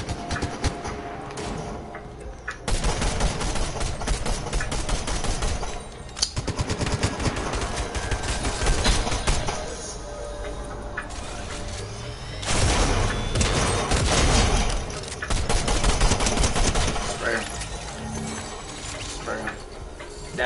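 Rapid automatic gunfire in the Fortnite video game, loud bursts of shots coming in long rattling volleys separated by brief lulls, with sharp cracks and impacts mixed in.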